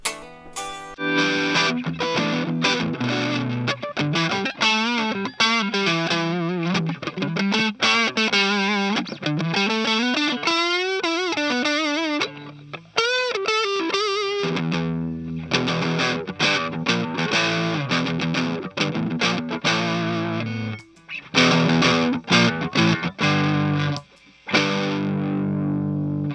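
Electric guitar played through a distortion pedal with heavy compression, thick squished sustained notes and chords with bends and held tones, loud and continuous with brief gaps between phrases.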